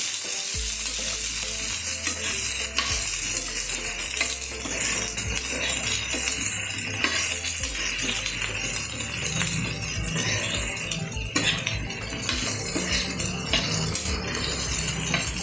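Cabbage, carrots and chillies sizzle lightly in a hot pan, a steady frying hiss with occasional stirring scrapes and clinks of a spoon, close and continuous with no talk.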